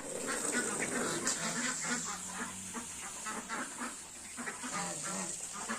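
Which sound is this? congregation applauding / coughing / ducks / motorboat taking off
ducks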